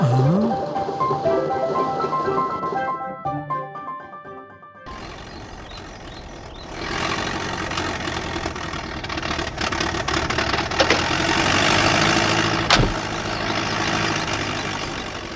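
A jeep engine runs with a rough, steady roar that swells louder midway and holds, following a stretch of tonal music, with a sharp click near the end; close and continuous, no talking.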